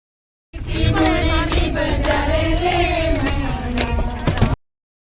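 Pilgrims clap hands in a steady rhythm along to sustained bhajan singing, the voices and evenly spaced claps close and loud throughout.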